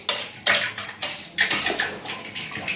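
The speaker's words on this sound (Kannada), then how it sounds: "ಈ ಥರ ಫ್ರೈ ಫುಲ್ಲು ಮಿಕ್ಸ್ ಮಾಡ್ಕೋಬೇಕು" Spatula scraping and clinking through a fry in a metal pan, a run of sharp close strokes repeating every half second or so, with no voices.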